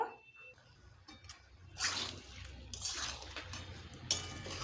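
Mutton pieces are stirred in a pot over a gas flame, with quiet scraping and a few metallic clinks of the spoon against the pot.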